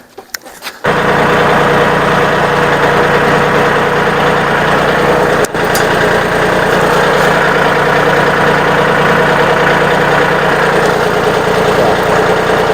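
A mini tractor's small engine starts and then runs steadily at a constant idle, loud and close, with a brief click partway through.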